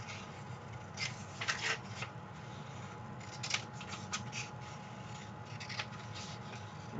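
Scissors snip through a paper sewing pattern for a child's garment, giving several close, crisp cuts in short clusters over a steady low background hiss, with paper rustling in between.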